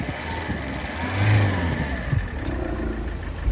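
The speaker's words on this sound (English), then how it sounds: "Let's see what happens when I try and start it." A Peugeot HDi diesel engine, just fitted with a new auxiliary belt, cranks and catches, rising to a brief rev before settling into a close, steady clattering idle.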